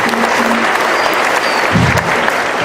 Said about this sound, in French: Applaudissez le Père Raphaël pour tout son travail.